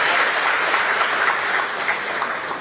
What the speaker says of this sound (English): please give a big round of applause for doing all this in our government